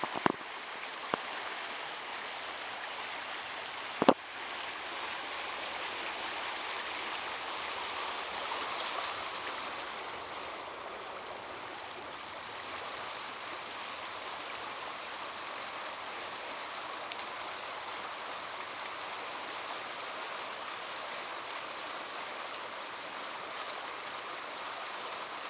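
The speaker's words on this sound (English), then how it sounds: "We're definitely watching the waters run here." Floodwater rushes along during rain in a steady, broad wash of running water. It holds for the whole stretch, with a sharp knock near the start and a few faint taps, and nobody speaks.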